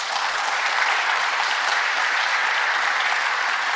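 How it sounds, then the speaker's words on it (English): Sustained applause from a large audience at a political event, steady and dense clapping throughout with no voices standing out. "this surprising amount of applause there"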